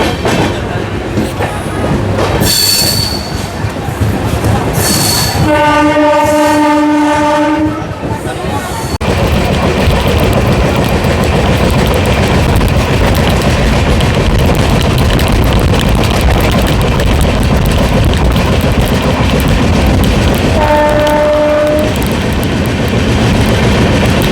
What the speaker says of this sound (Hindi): हमारी ट्रेन पहुंच चुकी है खुसरूपुर रेलवे स्टेशन।